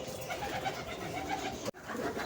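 Breeding pigeons kept in a loft coo continuously in a soft, murmuring chorus close by, broken by one abrupt brief dropout before resuming.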